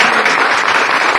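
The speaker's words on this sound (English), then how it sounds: "How about a round of applause for both?" Audience applause at a Cherokee County, Iowa meet-the-candidates forum: a short burst of steady, dense clapping from the crowd, loud and continuous with no talking over it.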